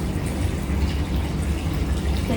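Tap water runs steadily while hands are rinsed in a school handwashing demonstration, a close, even splashing stream lasting a couple of seconds with no speech.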